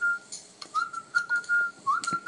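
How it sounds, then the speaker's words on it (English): A person whistles a short, wavering tune, close and clear, in a few quick bursts with no talking. "Don't whistle."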